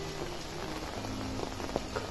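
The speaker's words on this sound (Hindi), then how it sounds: "बारिश काफ़ी हो रहा है" Heavy rain falls steadily in Nainital in cold weather, a dense continuous hiss of drops hitting surfaces, with faint low hum underneath and no talking.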